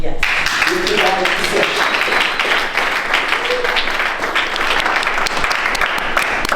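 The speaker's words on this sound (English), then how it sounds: "I want to give a round of applause to this section" An audience at a National Medical Association gathering breaks into loud, sustained applause, with dense clapping and some voices mixed in, filling the room throughout.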